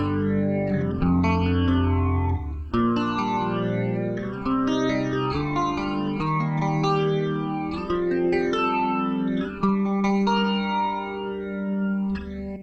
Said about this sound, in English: this is just a kind of clean setting with a pretty fast chorus on it